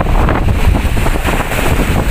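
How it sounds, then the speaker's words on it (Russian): Strong wind by a rough sea, roaring as continuous buffeting noise across the microphone with no voices, loud and unbroken throughout. "Ветер, наверное, сильный, простите."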